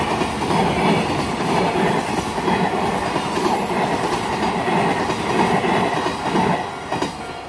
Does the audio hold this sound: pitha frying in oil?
no